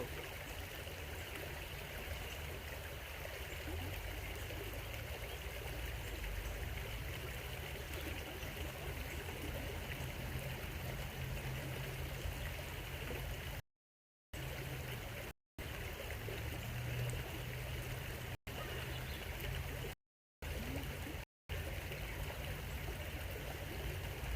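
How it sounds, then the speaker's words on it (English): Creek water flows and trickles steadily outdoors, a continuous close rushing wash with a few brief dropouts. "Enjoy the creek."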